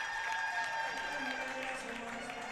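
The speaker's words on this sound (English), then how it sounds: "The crowd has come alive here too. Lots of rooting and hollering" Hockey crowd at a Sioux City Metros varsity game rooting and hollering, a steady broad roar of cheers and shouts that stays loud and fairly even throughout, with a few higher yells standing out.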